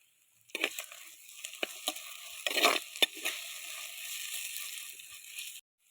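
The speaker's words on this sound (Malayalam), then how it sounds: "നല്ലോണം വഴറ്റിയെടുക്കുക." Tomato and onion sauté in a pan as a spoon stirs and scrapes in quick, irregular strokes over a soft, continuous sizzle, close and alone.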